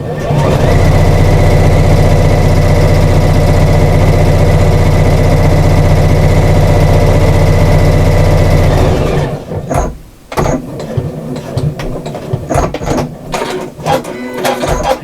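A sewing machine stitches a reversible shopper bag, its motor running loud and steady for about nine seconds, then stopping, followed by close handling clicks and rustles of fabric.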